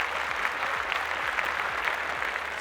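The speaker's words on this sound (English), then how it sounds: "Round of applause for her, ladies and gentlemen." An audience at a fashion pageant event applauds steadily, a continuous wash of many clapping hands at even loudness with a low hum beneath and no speech.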